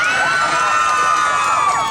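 A large crowd at an outdoor Christmas tree lighting in Binangonan cheers and shouts loudly and continuously, with high children's voices whooping over a dense, sustained roar.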